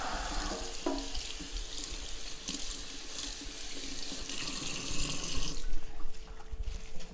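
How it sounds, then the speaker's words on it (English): Tap water runs steadily into a kitchen sink as kale leaves are rinsed under the faucet, a continuous close splashing hiss for several seconds with no talking. "get a little bit more kale. Rinse this off."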